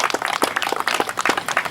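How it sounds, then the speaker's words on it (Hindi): An audience at a Hindi comic poetry gathering at the Civic Center in Bhilai breaks into a short, loud burst of close, dense clapping. "आप सभी की एक बार जोरदार तालियां मुझे मिले"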